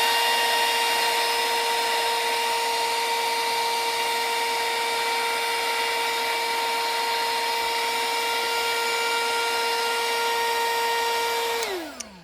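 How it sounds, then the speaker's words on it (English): A heat gun blows steadily and loudly on embossing powder, holding one even whir with a fixed tone, then dropping in pitch as it is switched off near the end. "you can come back and hit it again with the heat gun, like I just did"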